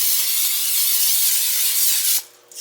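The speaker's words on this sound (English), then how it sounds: "You want to spray it with nonstick cooking spray." A continuous hissing spray from a nonstick cooking spray can into a baking pan lasts about two seconds, close and steady, then cuts off abruptly.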